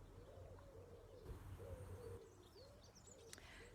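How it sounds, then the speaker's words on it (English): Soft cooing bird calls outdoors, a few repeated low phrases at a distance, faint against quiet background ambience with occasional higher chirps. "hopefully you can hear the beautiful birds singing in the background."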